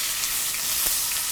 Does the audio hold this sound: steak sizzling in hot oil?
yes